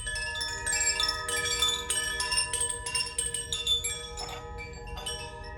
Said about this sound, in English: And I want to ring this chime.